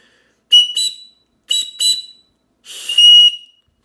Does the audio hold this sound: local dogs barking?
no